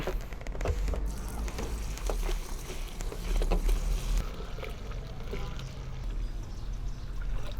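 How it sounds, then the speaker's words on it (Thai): Water pours steadily into a container while a homemade insect-repellent mixture is prepared on a farm, a dense, continuous splashing gush heard close and loud throughout. "เทน้ำลงไปเลยครับ"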